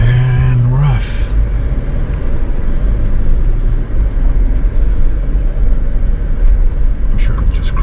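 A Jeep rumbles with a steady low engine drone and road noise as it climbs toward an overlook, the sound close and continuous, with a short bit of talk near the start.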